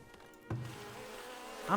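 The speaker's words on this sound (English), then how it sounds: "What I'm hearing is more bees." A steady, low insect buzz of bees in the game Farthest Frontier hums throughout, droning, with a short louder burst near the start and a brief tonal rise at the end.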